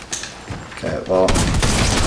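Close-range sniper rifle fire in a video game: a burst of loud, dense gunshots fills the last second after quieter game noise and a brief voice.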